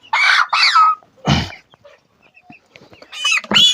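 Broiler chickens about 27 days old, weighed three at a time, give loud, close clucks and squawks in two bursts, with a dull thump between them and no talking.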